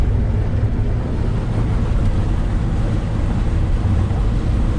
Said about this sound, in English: Driving down the highway in my old 87 GMC square body, 65 miles an hour